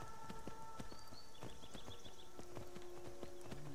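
Horse hooves clip-clopping in the video game Skyrim, a steady run of faint, evenly spaced hoof clops over soft ambient background tones, with no talking.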